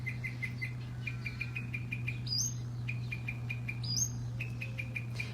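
A small bird sings repeated rapid chirps in quick, even series, fairly close and clear, broken by a couple of rising whistled notes over a steady low hum.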